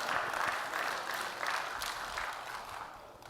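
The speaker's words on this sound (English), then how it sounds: "You can clap." An audience at a talk claps in response to the speaker, producing a faint, fairly steady patter of applause heard from a distance for a few seconds.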